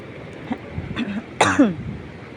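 A single close cough with a rough, throaty burst, followed by a short trailing vocal sound, against quiet background noise.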